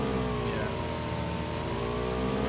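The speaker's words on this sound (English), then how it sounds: "I can hear a car." A steady, droning car engine in PUBG hums continuously at moderate volume, revving slightly, with a slow pitch sweep as it moves.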